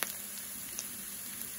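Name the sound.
cumin seeds sizzling in oil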